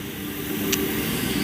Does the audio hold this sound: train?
yes